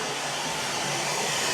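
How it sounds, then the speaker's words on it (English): A vacuum cleaner hoovering in a house during a rewire: a steady, loud, broadband motor whoosh running continuously without change and with no voices. "Bob's in here hoovering"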